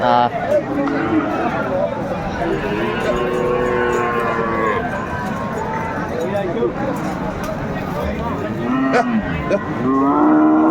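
Friesian and cross-breed bull calves at a livestock market in Dinajpur moo loudly and repeatedly, with long drawn-out calls over a busy crowd and people talking nearby.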